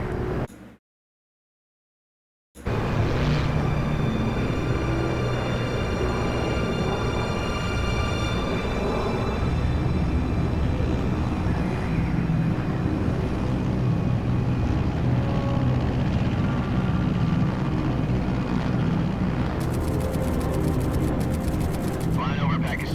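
An aircraft in the video game Metal Gear Solid Delta: Snake Eater cruises at 30,000 feet over Pakistan, a loud continuous roaring engine drone that fills the scene after a brief silent gap.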